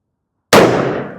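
A single sharp rifle report from a 7-6.5 PRCW hunting rifle, a sudden loud crack at the half-second mark that decays over a moment, with no talking.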